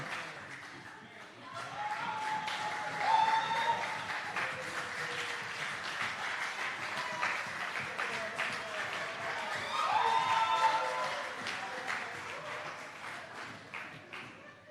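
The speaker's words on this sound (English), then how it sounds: "Another round of applause for him." Applause from the audience at a youth mayors' forum in Jamaica, a dense crowd clapping that swells and holds for most of the stretch, with a voice speaking over it at times.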